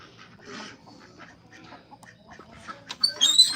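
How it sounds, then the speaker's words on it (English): A farm duck quacking at bedtime, several short squawking calls scattered across the moment and growing louder and more frequent near the end, close by with no talk. "The duck's ready to go to bed"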